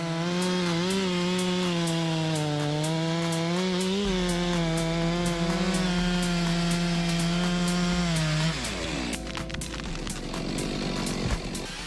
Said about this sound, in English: the man operated the EMS 462 chainsaw engine accurately and effectively